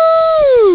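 A dog howls once up close, a single loud, sustained tone that holds steady and then slides downward as it fades out.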